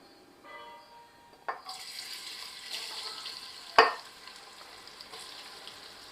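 Sliced onions, about half of 200 grams, sautéing in a pan for Vaniyambadi mutton biryani: a soft steady sizzle swells after a knock, then a sharp clatter mid-way before the frying settles into an even hiss, close and alone.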